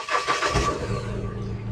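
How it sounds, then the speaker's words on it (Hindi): A Mahindra Bolero BS6 pickup, which has a DPF soot fault, cranks and fires up, with a short burst of cranking followed by the engine catching and settling into a steady low idle. A voice speaks faintly over the start. "तो फ्रेंड्स गाड़ी स्टार्ट हो गई है"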